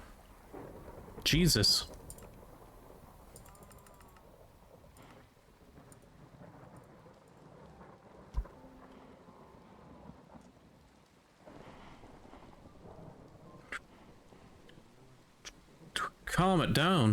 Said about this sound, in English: that lightning's striking a lot. It's very loud.